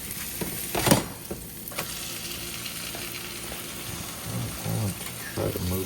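A grilled cheese donut sizzles steadily in a frying pan, a continuous close crackle with a few scraping and stirring clunks and faint voices in the background.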